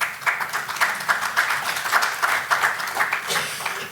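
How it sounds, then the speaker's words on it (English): Audience applause in a lecture hall for a physician speaking on prenatal diagnosis, a steady wash of many hands clapping at moderate level with no talk over it. "The applause is from having cared for all of you."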